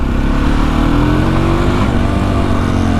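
A Husqvarna SMS630 supermoto motorcycle engine drones loudly and continuously, its pitch slowly climbing as it revs, close and unbroken throughout.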